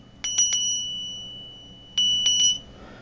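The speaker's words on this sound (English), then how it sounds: "Now, this bell, very small, but when I approach the altar, I usually ring it." A very small altar bell rings in two short bursts of quick high metallic strikes, three dings each, clear and close over a low background hum.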